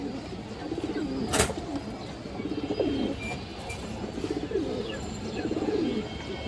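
A female Pakistani Rampuri high flyer pigeon gives several rolling coos in bursts across the stretch, near and moderately loud against a low murmur of other pigeons.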